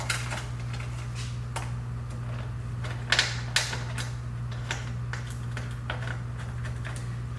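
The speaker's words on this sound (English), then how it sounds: "Thread the bolts by hand." Bolts being threaded by hand onto the intake snorkel box of a Toyota Camry, giving light metallic clicks and scrapes with a few sharper taps, close and fairly quiet over a steady low hum, with no talk.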